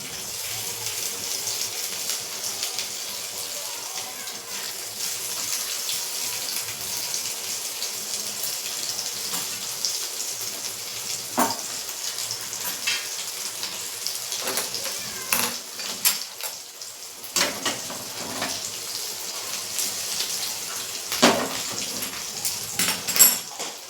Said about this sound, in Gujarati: હવે આપણે એક એક કરી અને ધીમે પનીર છે તે તેમાં એડ કરી લેશું